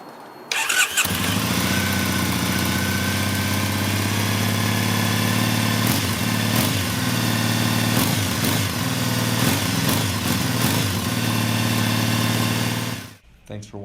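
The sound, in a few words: Triumph Bonneville SE 2012 865cc motorcycle engine started, idling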